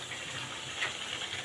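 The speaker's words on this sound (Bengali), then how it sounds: "আমি একটু ঝোল দিয়ে নিব" Steady gush of water or broth being poured into a pot of chicken curry, a continuous soft splashing hiss heard alone and up close.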